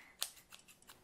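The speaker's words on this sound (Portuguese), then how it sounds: "eu tava testando a tesoura numa calça minha" Blunt scissors snip at trouser fabric, with one sharp metallic cut followed by several fainter snips in quick succession, close and quiet.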